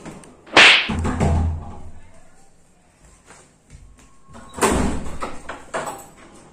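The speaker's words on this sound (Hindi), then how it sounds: "तब तक दरवाजा खोलता हूं।" A door is opened in a home, giving a sharp knock-like hit followed by a rustling swing and then a second loud thud, with faint voices and movement in the background.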